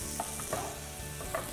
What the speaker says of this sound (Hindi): तड़के को अच्छे से पका लीजिए, भून लीजिए